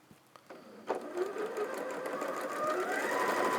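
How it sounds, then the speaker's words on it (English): A sewing machine stitches fabric along a bias edge, its motor whirring in a steady, continuous run that picks up after a few soft clicks and grows slightly louder toward the end, close and alone. "you're sewing along a biased edge here"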